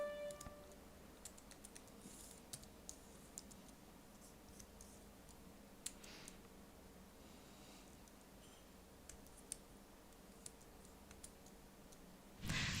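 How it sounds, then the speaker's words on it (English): Steady keyboard typing and key clicks at low volume while playing the computer role-playing game Bard's Tale, a run of scattered light taps with a slightly louder burst at the very end, no talking. "I'm using my keyboard rather than the mouse"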